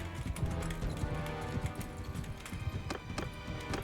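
Horse hooves clip-clopping at a steady gallop in Mount & Blade 2 Bannerlord, with dense, rhythmic thuds that sound fairly close, over a low background rumble.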